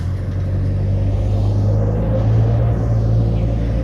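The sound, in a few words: car driving, story sound effect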